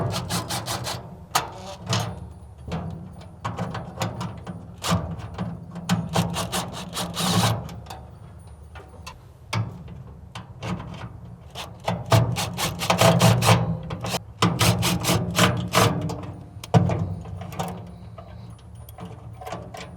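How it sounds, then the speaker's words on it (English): Metal screws being worked loose with a hand tool on the housing of a Camp Chef XXL Pro vertical pellet smoker: close, irregular clicks, scrapes and clattering taps in bursts, with no talk. "we need to undo these 4 screws in order to access it"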